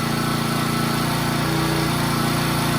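A Honda HHT35S four-stroke string trimmer engine runs at a slightly rough idle, a steady, loud, close buzzing drone that holds throughout with no speech.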